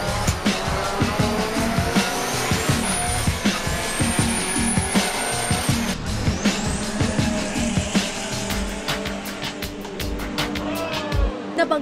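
Race car skidding and crashing during a motor race, with loud, continuous engine roar, tire noise and a series of sharp impact clatters, especially in the second half, under faint background voices.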